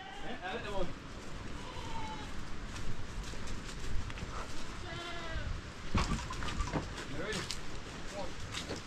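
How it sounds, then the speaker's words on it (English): Goats kept inside a house in a Jamaican village bleat several times in short wavering calls, some close and some a little farther off, with people talking and footsteps around them. "Ah, you have some goats inside here."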